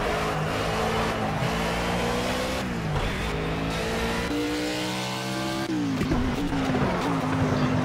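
A race car in Project Cars roaring through hard acceleration, the engine climbing through revs with abrupt gear shifts, a brief tire squeal and a loud, close, continuous exhaust note.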